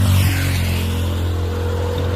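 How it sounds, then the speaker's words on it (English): Saturday road traffic on a Belgian street passes loudly and continuously, a deep engine rumble and drone filling the whole stretch with no talking. "Saturday traffic."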